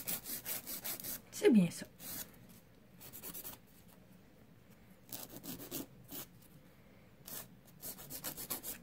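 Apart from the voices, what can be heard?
filing a fingernail with a nail file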